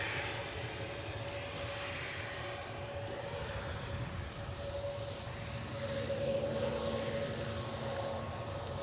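A British Airways airliner rumbles at Edinburgh Airport, a faint, distant, steady roar with a thin whining tone running through it, swelling slightly toward the end; no talk.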